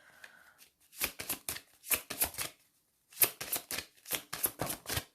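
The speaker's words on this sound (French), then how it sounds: "Je vais prendre, on me dit juste 3 petites cartes." Tarot cards being shuffled and drawn during a weekly guidance reading, heard as about ten close, soft riffling bursts in quick clusters with short pauses between them, alone without talk.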